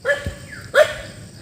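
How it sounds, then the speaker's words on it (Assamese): A dog at Mahadev hill gives two short barks with a brief yelp between them, close by and alone. "তাতে কুকুৰ ভুক কৰি আছে"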